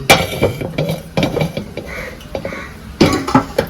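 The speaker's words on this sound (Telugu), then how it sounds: "స్టవ్ మీద డేషా పెట్టుకుందాం" A metal cooking pan set down on a stove burner, with several clanking, scraping metallic knocks spread over a few seconds at close range, alone without talk.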